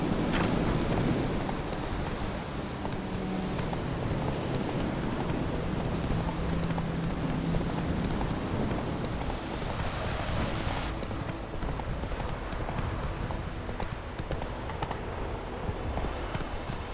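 Roach the horse trotting through rain in The Witcher 3, steady clip-clop of hooves over a continuous wash of rainfall, moderately close and without speech.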